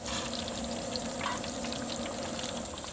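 Green tomato slices fry in a pan with a constant, close sizzling crackle, steady and even for the whole stretch, with faint scattered pops and no talking.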